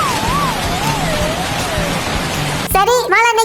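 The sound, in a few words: rain falling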